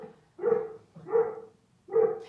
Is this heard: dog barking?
yes